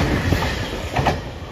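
JR Shikoku 2700 series diesel express train passing Tsukuda Station at speed, a loud rumbling rush with rhythmic clickety-clack of wheels over rail joints, close and continuous throughout.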